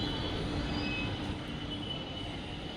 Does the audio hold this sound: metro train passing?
yes